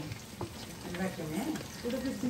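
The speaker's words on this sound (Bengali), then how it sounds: "এখন শুধু আমাদের পরোটা ভাজা হবে আর খাওয়া" Bosnian paratha frying in a pan at an outdoor summer picnic in Canada, a steady crackling sizzle with some stirring, while people talk over it.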